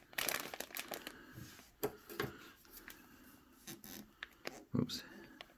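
Plastic packaging around a set of 1800 thread count Egyptian cotton deep-pocket bed sheets being cut open, with close crinkling, scraping and a few sharp snips in short bursts, under faint talk.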